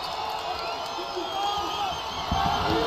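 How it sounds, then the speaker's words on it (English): Basketball arena crowd at an NMSU versus Liberty men's game, a steady roar of cheering and shouting that swells louder toward the end, with voices mixed through it. "This crowd can get loud here in this building."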